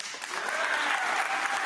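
A studio audience at a comedy talk show applauds, a steady wash of clapping that swells and holds, close and moderately loud, with no talking over it.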